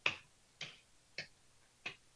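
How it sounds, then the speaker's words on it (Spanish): Four single hand claps land at uneven, drifting intervals, each a sharp isolated crack close by with silence between, loosely keeping an off-beat pulse. "Si yo voy a tratar ahora de aplaudir"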